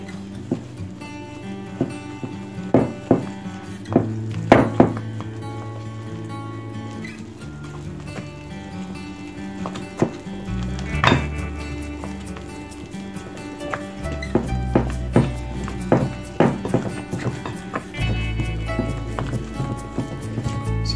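Condensed milk cake batter is mixed by hand without a mixer, giving close, irregular thumps and clicks of a spoon against the bowl over soft wet stirring.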